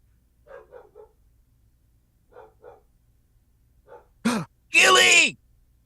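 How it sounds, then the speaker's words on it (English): A dog barks in short bursts in the background, in pairs and triplets, then louder, closer yelps and a howl-like cry near the end. "I hear Gilly barking up in the background"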